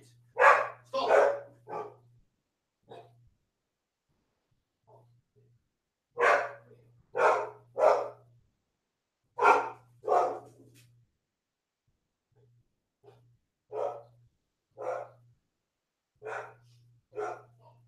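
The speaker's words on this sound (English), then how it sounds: "I'm sorry, stupid dog. She's still barking." A loud dog barks in repeated bursts of several sharp barks, separated by short pauses, close to the microphone, with no talking over it.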